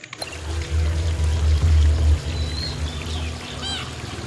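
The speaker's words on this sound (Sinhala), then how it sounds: "වතුර ගහගෙන යනවා උඩින්" Water flowing and pouring in the video game Stray, a steady rushing stream that swells loud in the middle and then eases, with faint high chirps near the end and no voices.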